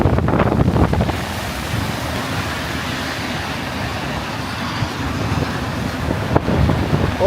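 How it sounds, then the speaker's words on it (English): Fierce wind gusting during a rainstorm on Yonge Street in Willowdale, Toronto, a loud steady roar buffeting the microphone, with stronger rumbling gusts at the start and end. "This wind is fierce."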